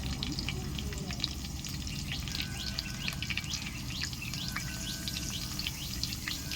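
Steady, dense sizzle of curry leaves frying in hot oil for a Tamil crab curry, with crackling pops throughout and no voices.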